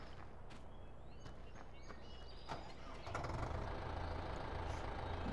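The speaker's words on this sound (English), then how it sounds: "That's a nice little tractor." A small farm tractor idles in Farming Simulator 15, a steady low engine rumble that thickens and grows slightly louder after a few seconds, with faint bird chirps and light background sounds over it.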